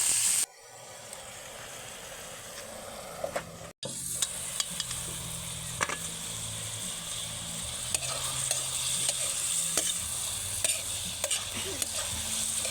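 Squid adobo sizzles and hisses steadily in a pan while a utensil stirs it, with scraping strokes and small clatters over the constant frying noise; one brief drop in the sound happens early on.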